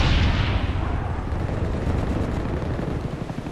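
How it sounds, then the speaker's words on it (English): A friendly Huey helicopter arriving in a multiplayer shooter's demolition match, a loud continuous rotor rumble mixed with heavy gunfire and explosion-like battlefield noise throughout. "Friendly Huey inbound."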